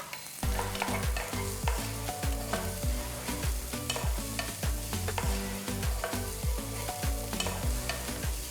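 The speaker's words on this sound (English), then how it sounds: "add 1 tablespoon of butter. I'm also going to add 1 tablespoon of oil, 2 medium-sized onions finely chopped" Finely chopped onions frying in butter and oil in a pan, a steady close sizzle with rhythmic stirring and scraping throughout, no talk.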